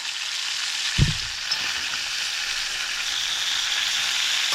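Lemon rosemary chicken frying in a pan until crispy, with a steady, bright sizzle that holds close and even throughout and a soft bump near the start.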